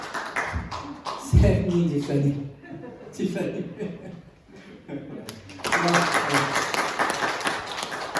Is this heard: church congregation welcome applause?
yes